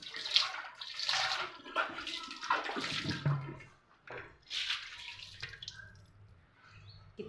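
Water is poured and splashed inside an old clay pot to rinse it, making uneven sloshing and gurgling bursts that come in several pours, close to the mic.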